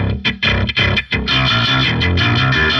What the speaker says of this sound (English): the super gross distorted bass sounds